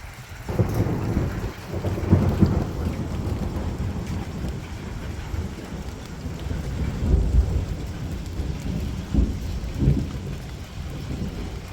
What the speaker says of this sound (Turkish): aşırı sıcaktan sonra bir yağmur bastırdı